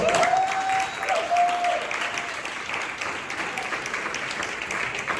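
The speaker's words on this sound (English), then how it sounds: "will you all please give another round of applause for Dr. Patricia Powerhouse over there?" Conference audience gives a round of applause, moderately loud and steady, with a brief whistle and some voices mixed into the clapping near the start before it settles into an even patter.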